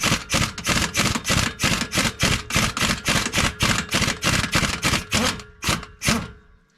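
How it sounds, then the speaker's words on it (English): An impact wrench works a 15mm bolt on a Ford F-series truck hub, firing a fast, even string of sharp rattling bursts close up. It stops abruptly near the end. "And then I take my impact on the other side"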